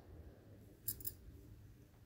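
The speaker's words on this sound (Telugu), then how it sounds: "ఇప్పుడు ఎక్సెస్ ఉన్న మార్జిన్ అంతా కట్ చేసుకుంటూ నీట్గా దారాలు ఎప్పటికప్పుడు ట్రిమ్ చేసుకోవాలి" Tailoring scissors trim excess fabric margin and loose threads while stitching a kurta neck, making two quick, faint, crisp snips close by against a quiet background. No voices.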